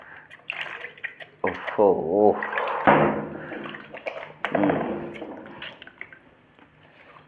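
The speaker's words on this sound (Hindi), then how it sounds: "मैं फिर से एक बार धोऊँगा हाथ अपना।" Hands being rinsed under running water after a soap experiment, with splashing and dripping that come and go over several seconds while someone talks over it.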